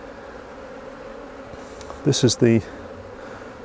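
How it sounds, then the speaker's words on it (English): Honey bees swarm around an open hive with a steady, close buzzing hum throughout, as a person briefly speaks over it. "There is a lot more bees in the air."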